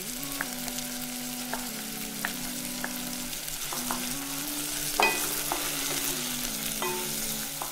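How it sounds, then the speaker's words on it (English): Tomatoes go into a pan of sizzling meat sauce, bringing a steady close frying sizzle with occasional stirring clicks and a low background hum. "Okay, so next to go in, I'll add my tomatoes."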